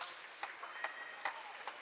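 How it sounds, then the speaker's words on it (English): An audience in a school gym applauds senior volleyball players, a faint, distant spread of clapping with a few sharper claps standing out. "Let's give all the seniors a warm applause and thank them for their leadership"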